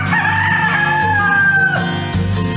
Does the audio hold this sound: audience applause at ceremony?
no